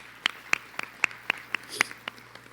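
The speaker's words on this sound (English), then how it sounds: "I always like to start off by giving our elders a round of applause in the room" A small group at a shareholder meeting claps for elders in the room: sparse, distinct hand claps in a loose, fairly regular rhythm, a single prominent clapper near the listener over faint room hum.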